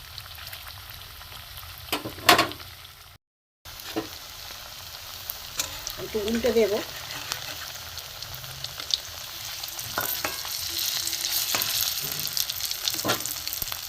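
Carrot pieces fry in hot oil in a pan, three at a time, giving a steady soft sizzle with a few stirring clinks and scrapes. A brief spoken line comes midway, and the frying continues beneath.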